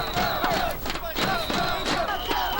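Packed stadium crowd at a Korean professional baseball game in Jeonju cheering loudly, with bursts of chanting and rhythmic group clapping in a 3-3-3 pattern rising and falling throughout.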